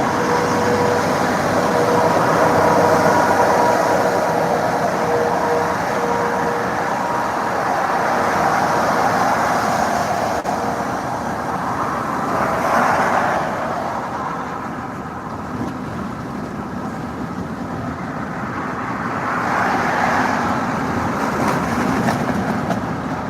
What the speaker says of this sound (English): listen to this truck coming by